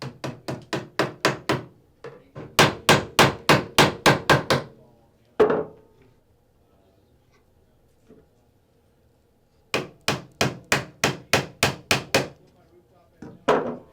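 Staples hammered in to secure 16 gauge two-conductor speaker wire inside a wall, loud rapid bursts of sharp hammer blows in three runs, separated by near silence and a single isolated knock.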